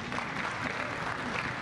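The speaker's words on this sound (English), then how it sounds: "I think they deserve a round of applause." Conference audience giving a round of applause at a rail keynote, a brief, even wash of clapping from many hands, continuous and moderately loud with no talk over it.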